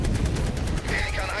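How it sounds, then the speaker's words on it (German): Rapid gunfire rattles through a round of the video game Helldivers 2, a dense, continuous burst of shots filling the whole moment at close range. "Uli, ich hab gefühlt 1000 Schuss verbraten, die Runde."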